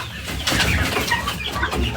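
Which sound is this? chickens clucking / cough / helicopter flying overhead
chickens clucking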